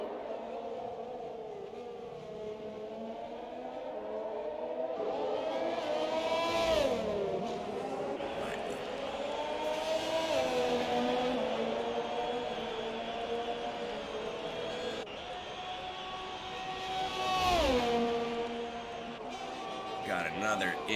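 Race cars coming around the track on the penultimate lap of a Wednesday night sprint race: whining engine tones that climb and drop as they pass, with several swells and sweeps over a continuous roar.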